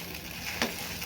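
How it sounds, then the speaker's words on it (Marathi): Egg bhurji frying in a pan, a soft continuous sizzle with a single brief stirring scrape midway, close and short. "आता हे एकसारखं परतून घ्यायचं आहे।"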